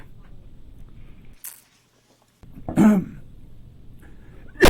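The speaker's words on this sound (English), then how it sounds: "Excuse me, I got a cough here." A man coughs and clears his throat, a few short, harsh bursts close to the microphone, with a brief quiet gap between them.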